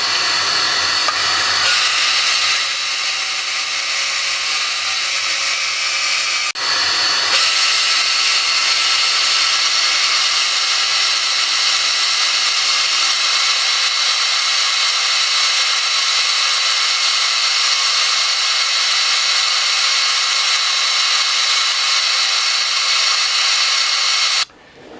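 A power sander whirs with a steady high hiss against a walnut and bubinga rolling pin, running continuously close up with a brief pause early on before it carries on.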